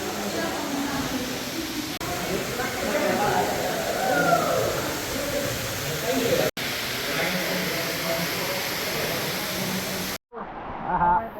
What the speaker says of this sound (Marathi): हे किरकोळ धबधबा तिथं मोठा धबधबा.